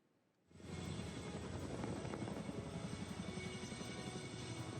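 A US military helicopter arriving in Banyuwangi for a joint exercise starts up after a brief quiet, settling into a steady, dense rotor-and-engine roar with a faint rhythmic chop, held at an even level throughout.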